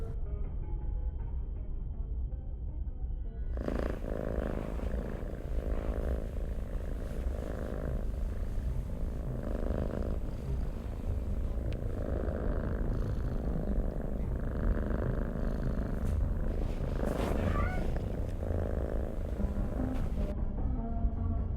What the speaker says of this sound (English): Silly cats.